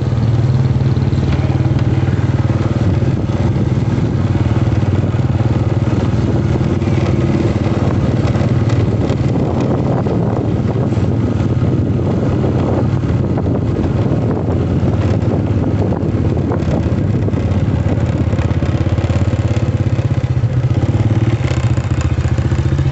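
A big motorcycle engine idles steadily in a village, a continuous low rumble with wind buffeting the microphone throughout and no talking.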